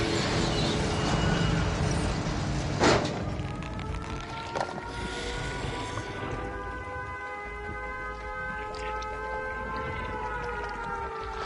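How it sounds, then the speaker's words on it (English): A loud, wailing siren in the video game Dead by Daylight rises and holds in sustained, layered tones over a noisy, rumbling game background, with a sharp burst near the start and no speech. "I pretty much did that to hear the siren."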